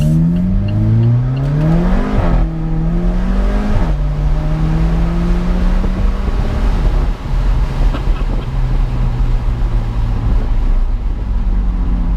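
A loud Alfa Romeo 4C Spider engine drives steadily with the roof off, its pitch rising and falling as it accelerates and shifts through gears, with wind rush throughout.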